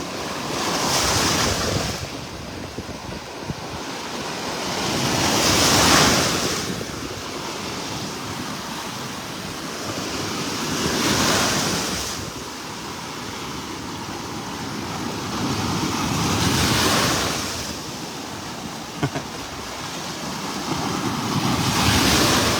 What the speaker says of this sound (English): Standing right in the break of the waves.